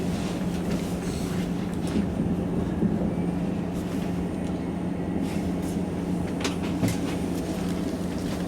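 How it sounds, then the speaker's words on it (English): A train to Leeds, number 22011, rolls past in West Yorkshire with a continuous rumble and faint clicking of wheels on track, steady and fairly close throughout, with no speech. "You can hear it, and you can see it. Our train to Leeds."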